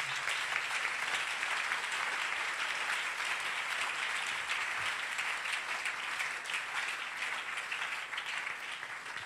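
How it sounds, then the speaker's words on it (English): Congregation clapping at a church service, a dense, steady wash of applause filling the space throughout, loud and continuous with no speech. "you can clap."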